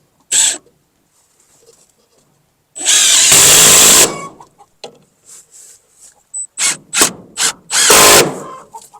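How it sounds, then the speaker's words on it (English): A power drill drives screws into a board while setting up solar power on a chicken coop, with sharp whirring bursts of varying length, one long run and a quick series of short pulses, close and loud between silences. "now all we need to do is put these screws in."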